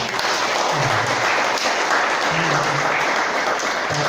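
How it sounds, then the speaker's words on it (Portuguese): Church congregation applauding together, a steady wash of many hands clapping that fills the room, with voices and low music faintly underneath. "Você pode dar uma salva de palmas para Jesus?"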